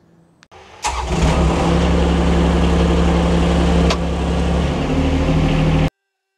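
A compact AGT QNT30 mini excavator engine cranks briefly, catches, and settles into a loud, steady diesel-like running drone close by, then cuts off abruptly at the end.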